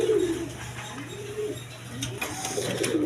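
A pair of white German Beauty pigeons coos in repeated low, rolling calls close by, with faint chirps and steady background noise.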